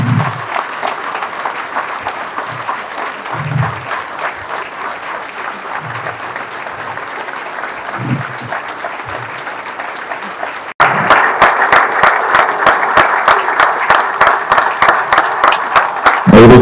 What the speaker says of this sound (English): Let the applause reach the heavens.